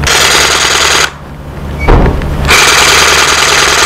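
Bosch GSA 18V-32 cordless sabre saw cutting, loud and close, its buzzing reciprocating roar running continuously, breaking off for about a second, then restarting and carrying on to the end.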